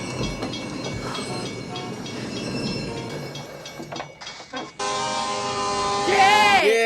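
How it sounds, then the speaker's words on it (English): Train from Back to the Future Part III passing, a dense rumbling roll with clatter and a high screeching whine building near the end, loud throughout, with brief voices reacting early on. "Is there a train coming?"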